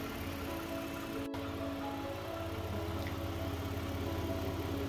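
A Toyota Vellfire with a 3.5-litre V6 and four-wheel drive idles quietly and smoothly, giving a steady, even low hum with no revving, heard close by.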